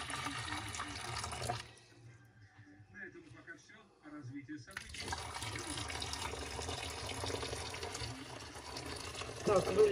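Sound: boiling water being poured inside a pan

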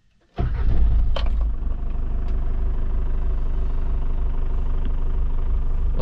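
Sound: Mitsubishi Pajero engine starting and idling

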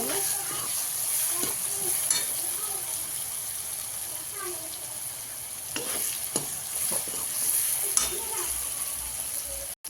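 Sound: stirring cooked vegetables for pav bhaji in a pan

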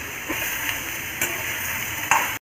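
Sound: sautéing tomatoes in a pan

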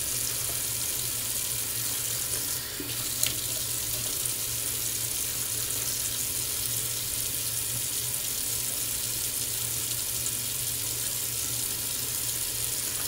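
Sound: water running from a bathroom tap to hydrate shaving soap

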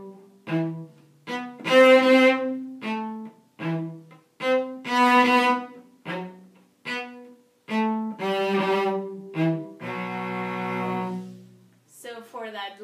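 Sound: cello bowing exercise

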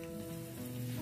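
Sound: mustard seeds, cumin and red chilli sizzling in hot oil

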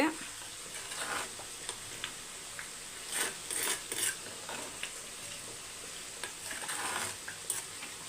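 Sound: curry sizzling and splattering in pan

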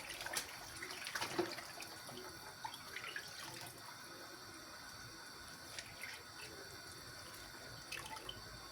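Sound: tap water running while washing

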